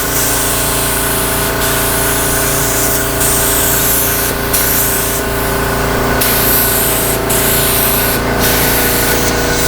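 A Powermate HVLP gravity feed spray gun sprays old paint with a loud, steady hiss and a few short breaks where the trigger is released.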